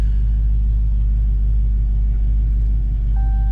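Supercharged 800 hp Dodge Hellcat engine rumbling heavily and close, a steady loud low-pitched drone throughout with no talk.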